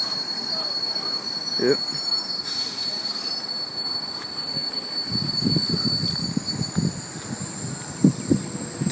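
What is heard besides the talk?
Sydney Trains sets T90 and T96 departing platform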